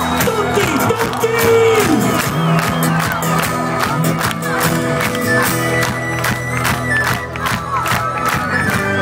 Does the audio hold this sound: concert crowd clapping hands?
yes